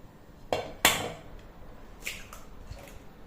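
An egg cracked against a bowl for chocolate cake batter gives two sharp knocks close together, followed by a few softer clinks and a wet drip in a quiet kitchen.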